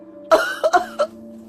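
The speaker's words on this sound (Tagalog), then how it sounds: "Pilit na pinipigilan ang malakas na ubo, pero hindi niya na kaya." A person in a dramatized scene, fighting a hard cough from chest and throat, lets out several harsh, close coughs in a quick uneven burst, alone without talk.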